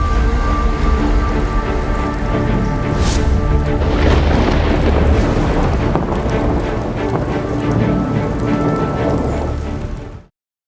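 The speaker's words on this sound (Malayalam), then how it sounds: "സംസ്ഥാനത്ത് ഇന്നും മഴ കനത്ത് പെയ്യുകയാണ്" Heavy monsoon rain pours in a dense, loud, unbroken roar, with a brief sharp swell partway through, before the sound cuts off abruptly at the end.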